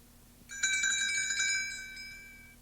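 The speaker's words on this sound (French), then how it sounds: "lorsque vous entendrez la fée Clochette faire tinter ses petites cloches" A short run of small bells tinkles brightly and rings out clearly, then fades away over a quiet hum.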